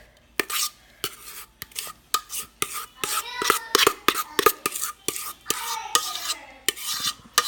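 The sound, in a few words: scooping avocado brownie mixture in a bowl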